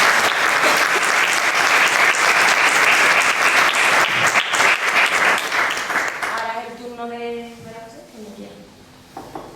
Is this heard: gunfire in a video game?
no